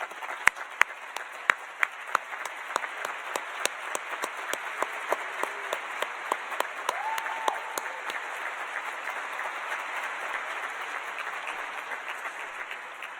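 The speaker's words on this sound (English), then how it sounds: "We'd just like to give you a round of applause." Audience at a business awards ceremony applauding judges, mentors and sponsors, sustained crowd clapping in a large hall with sharp individual claps at the start, building into a steady, even roar.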